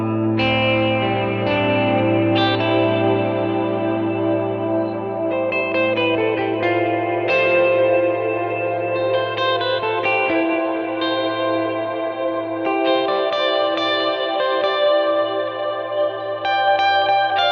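Sustained guitar chords and arpeggiated notes played through a Kemper amp with ambient reverb and delay stacked together, forming a dense, shimmering wash of echoing tones that rings continuously and loudly with no gaps.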